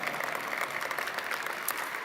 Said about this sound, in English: we can applaud for a good legal aid lawyer